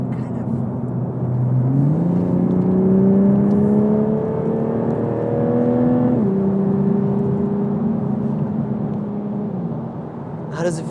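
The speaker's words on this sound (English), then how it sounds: "Slow down to about maybe 50 and then just stomp on the gas." A 2021 Toyota Supra engine winds up hard at full throttle through the gears, rising whine climbing in pitch, shifting, then climbing again before easing off, heard from inside.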